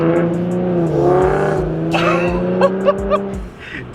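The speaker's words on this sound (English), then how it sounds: "the top speed exhaust without the muffler sounds so damn good" Infiniti G37 with a Top Speed exhaust and no muffler, its engine droning loud and steady at close range before sharp throttle blips and a few crackling pops near the end.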